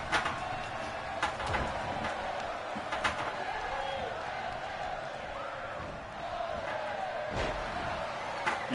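Wrestling crowd noise from WWE 2K16 in an NXT ring runs throughout, with a brainbuster slam and several sharp impact thuds over the steady roar of the arena.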